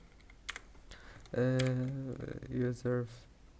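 Typing on a computer keyboard, a few scattered key taps under a voice talking.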